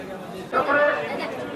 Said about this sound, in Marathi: बाप रे प्रचंड गर्दी आहे प्रचंड गर्दी